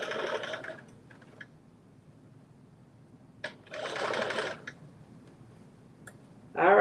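A sewing machine runs understitching on a garment in short separate bursts, close and fairly loud, with quiet pauses between the runs.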